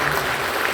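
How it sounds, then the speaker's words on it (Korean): A church congregation claps warmly in welcome during a service, a dense burst of applause lasting under a second. "성도 여러분들 뜨겁게 박수해 주시면 좋겠습니다."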